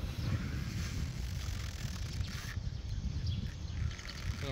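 The three-cylinder diesel engine of a used Kubota SRJ4 rice combine harvester idles with a steady low rumble, close by, with some wind noise across the microphone.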